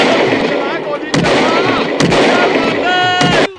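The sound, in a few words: gunfire sound effect in a radio prank call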